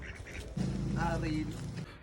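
Ducks quack in a close flock, a cluster of nasal calls in the middle, while a motor hums underneath.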